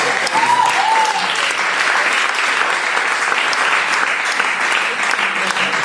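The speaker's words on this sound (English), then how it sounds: "why don't you everybody give Michelle a big round of applause?" A magic show audience claps in sustained, full applause that stays loud and even throughout, with a voice briefly heard beneath it.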